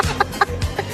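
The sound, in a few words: rooster clucking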